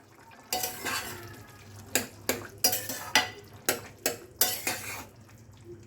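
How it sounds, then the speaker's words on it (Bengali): A metal lid and pot clatter over boiling potatoes, with a string of sharp clinks and scrapes in an uneven rhythm, close and moderately loud over a low bubbling background. "ঢাকা খুলে দেখি আলু সেদ্ধ হয়েছে কিনা।"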